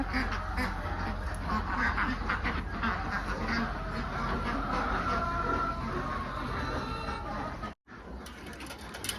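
A flock of Khaki Campbell laying ducks on an egg farm, kept beside a second breed, quack steadily in overlapping calls close by, broken only by a brief silence near the end.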